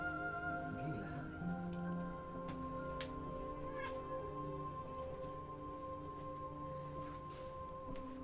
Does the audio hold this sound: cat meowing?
yes